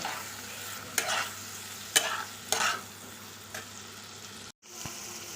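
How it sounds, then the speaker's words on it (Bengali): Potatoes stir-fried with spice masala in a pan give a steady sizzle, with several sharp scrape-and-clank strokes of the spoon spaced about a second apart and a brief pause near the end. "মশলা দিয়ে আমি ভালো করে আলুটাকে কষিয়ে নিয়েছি"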